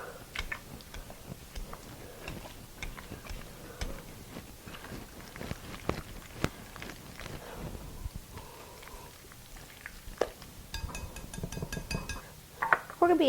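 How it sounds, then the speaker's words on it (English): Wire whisk blending condensed milk in a bowl, steady close rhythmic clinking and scraping against the bowl, moderately quiet and continuous. "Just going to use a wire whisk and kind of blend this together."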